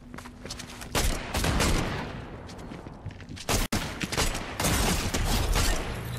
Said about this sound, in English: I'm just trying to shoot at people